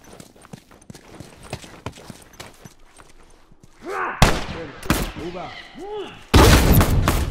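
A bomb going off in a shooter video game: footsteps and clicks give way to a voice and then a sudden loud, booming blast near the end, with speech over parts of it.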